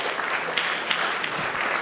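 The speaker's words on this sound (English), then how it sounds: "let's give Anna a round of applause" Applause at a community unity dinner in honour of Congresswoman Anna Eshoo, a short, even burst of many hands at moderate volume.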